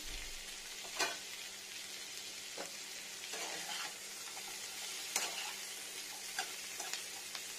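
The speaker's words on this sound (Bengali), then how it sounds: "ফ্রাই হবে। এবার দিয়ে নেবো ডাল বড়িটা" Chana dal lentil dumplings frying in oil with chopped garlic and ginger, a low continuous sizzle broken by several sharp spatula taps and stirs, quiet and close, with no talking.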